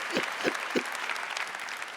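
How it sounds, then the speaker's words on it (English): A small audience gives brief, fairly light applause at a university family talk, a few sharper claps standing out early in a scattered patter that stays moderate and close. "Let's give Jackie a round of applause."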